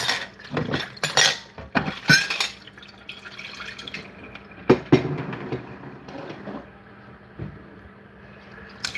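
Pots and dishes are washed up at a sink, with irregular clinks and knocks of cookware, splashes and trickling water, louder clatters spaced among quieter drips.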